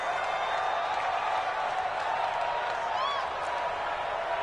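A stadium crowd in an American football video game roars in a steady, dense wash of cheering that holds loud and continuous throughout, with no distinct claps or individual voices standing out.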